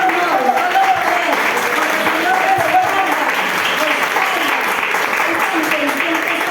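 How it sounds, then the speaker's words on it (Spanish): At a Spanish-language charismatic Catholic renewal gathering, the congregation breaks into loud, sustained applause, dense clapping with murmured voices and faint speech underneath. "Un aplauso al Señor."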